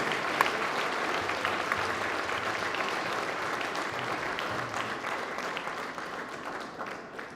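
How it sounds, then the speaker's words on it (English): Audience applause after the All-Ireland softball ladies singles handball final, a dense, steady round of clapping from the crowd that slowly tapers off toward the end. "That applause is certainly not unwanted"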